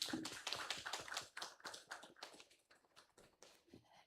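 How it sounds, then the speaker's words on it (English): Audience applause at the opening of an International Studium Generale academic event, a dense patter of many hands clapping that starts full and thins out over a few seconds, fairly faint and without voices. "Please give a big round of applause."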